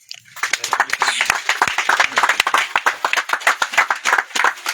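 A small audience claps for a land handover ceremony, crisp individual hand claps building into brisk applause that gradually thins out, with no talk over it.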